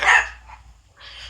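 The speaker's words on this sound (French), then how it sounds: "Le chien qui jappe" A dog barks twice, close and sharp, with a short gap between barks and no talking.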